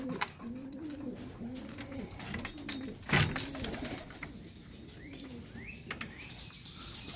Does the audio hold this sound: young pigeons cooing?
yes